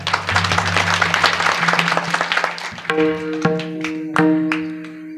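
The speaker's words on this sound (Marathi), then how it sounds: "देवासाठी एकदा टाळ्या वाजा" An audience claps for God at a devotional Marathi gathering, a dense burst of applause lasting about a second and a half, followed by sustained instrumental tones and a few drum strikes.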